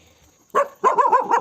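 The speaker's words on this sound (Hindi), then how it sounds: "किसको देख के भौंक रही है?" A dog barks at a cow nearby, first one short bark and then a longer run of loud, rapid, overlapping barks at close range.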